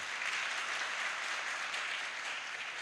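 An audience at a Jagran session on the RSS centenary claps steadily, a dense continuous applause filling the whole stretch at moderate distance, with no voices over it.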